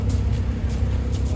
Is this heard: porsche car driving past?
yes